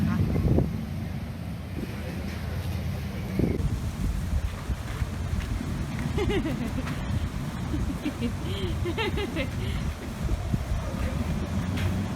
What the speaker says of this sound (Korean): 오, 근데 바람이 세다